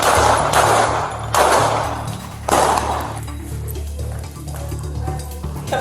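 Gunfire during a Columbus police confrontation with a burglary suspect, three loud sharp bursts about a second apart, followed by a noisy, harsh tail of rumble and scattered clatter.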